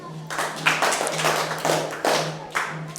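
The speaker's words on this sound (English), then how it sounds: "Clap for him." Audience clapping at a World Teachers Day celebration, rising in uneven bursts of hand claps for a few seconds over a steady low hum.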